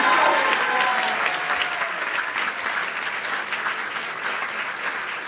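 Sustained applause from an audience at a Vaisesika Dasa Vyasa Puja celebration, loudest at the start and easing slightly while steady clapping continues throughout.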